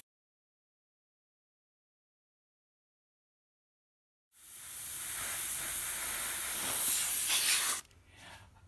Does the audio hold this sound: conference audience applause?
no